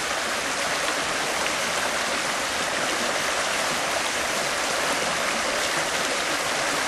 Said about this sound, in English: I'm now going to swirl the pan around and wash the lighter material back